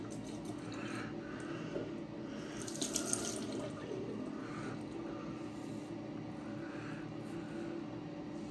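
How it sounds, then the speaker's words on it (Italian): A tap that won't shut off keeps running water, a faint continuous hiss and rush with slight swells, steady throughout and without speech. "O sta acqua che non si chiude."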